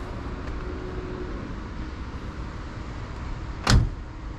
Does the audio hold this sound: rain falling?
no